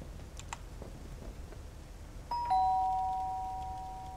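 A two-tone ding-dong chime from the video game Lake sounds once about halfway through, a bright pair of notes whose second tone rings on and slowly fades over a quiet, faintly clicking background.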